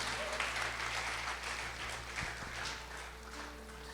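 A church congregation claps in a sustained round of applause, moderately loud and reverberant, with a low hum underneath and the applause easing slightly toward the end.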